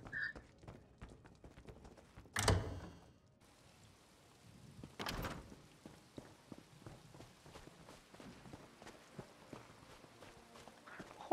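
Horse hooves clop along at a walking pace in the Elder Scrolls Online video game, a soft, steady rhythm of light thuds beneath ambient game sounds, broken by a couple of louder bursts.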